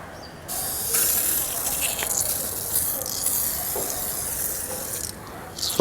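Several short bursts of tire shine aerosol spray hiss close by, separated by brief pauses, with faint handling noises between them.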